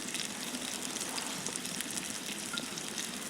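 Sausage and egg sizzle on campfire coals in a fire pit, a constant crackling hiss of frying fat with scattered pops, moderately loud and unbroken, with no voices.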